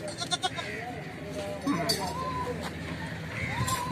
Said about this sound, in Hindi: बड़ी जंबो बकरी है माशाल्लाह।